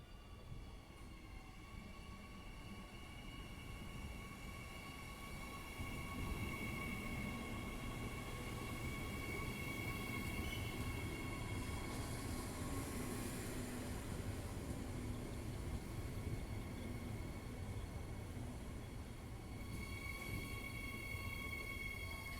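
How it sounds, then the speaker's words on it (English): A train from Perth rolls slowly into Platform 1 at Fremantle Station with a low steady rumble and faint high squealing tones, growing slightly louder midway, no voices. "The train now approaching, Platform 1, terminates here."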